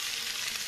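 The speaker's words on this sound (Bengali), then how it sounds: "এটা হচ্ছে পনির, এখন ভাজা হচ্ছে" Paneer frying in a pan with oil, giving a steady, dense crackling sizzle that stays even and unbroken throughout.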